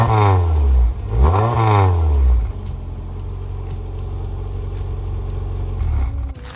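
A car engine fitted with a freshly welded full exhaust fires up with a loud rising rev and a couple of throttle blips, then settles into a steady, rumbling idle close by.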